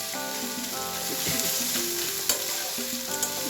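Spice paste being stir-fried in a pan for a Bengali ole chingri dalna of yam and prawns, a steady sizzle with scraping stirs and a few sharp knocks, under background music.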